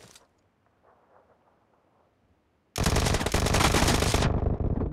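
Loud, sustained automatic gunfire erupts in an arena shooter game after a quiet stretch, a dense rapid burst lasting a couple of seconds.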